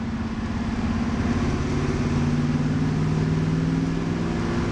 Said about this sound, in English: The car's now really, really smooth throughout the entire rev range.